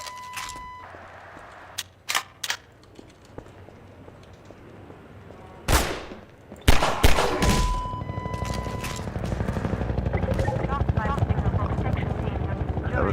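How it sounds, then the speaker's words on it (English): A video game helicopter, preceded by a few loud, sharp bursts, then settles into a steady, close, buzzing rotor drone that carries on to the end. "Helicopter."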